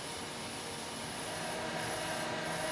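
A GV300 automatic rubber roll groover cutting a simple spiral groove into a rubber roll gives a steady, dense abrasive rasping and grinding hiss, continuous and even throughout with no talk.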